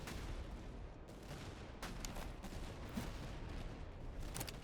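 Continuous crackling musket volley fire from massed infantry in Master of Command, a Napoleonic-era battle game, with Russian troops firing; dense overlapping shots roll on steadily for several seconds at moderate distance with scattered sharper reports.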